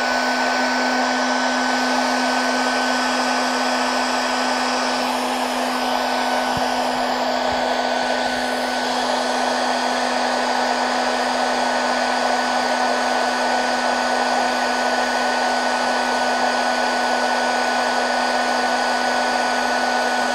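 A Dedra DED7058 cordless heat gun runs continuously as it heats up, a steady, fairly loud blowing whine with a constant motor tone that never varies, with no talking.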